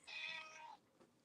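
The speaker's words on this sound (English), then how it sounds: "Can you hear that cat?" A hungry cat gives one drawn-out, fairly loud meow close by, then a faint trailing sound, with no talking over it.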